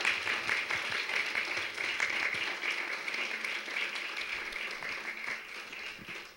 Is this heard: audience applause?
yes